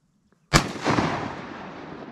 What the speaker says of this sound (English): Shoot him, Jordan!